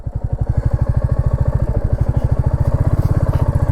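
A Commando Sand 350 motorcycle rides on desert sand dunes near Jaisalmer, its engine thumping in a steady, close, pulsing rhythm that dominates throughout.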